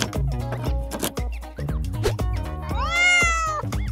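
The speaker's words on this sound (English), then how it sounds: "Cat." A cartoon cat meows several times in a row, loud and close, with a long rising and falling wail near the end, set among other playful cartoon sounds.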